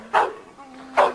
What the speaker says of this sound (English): this is the dog we call Pistola.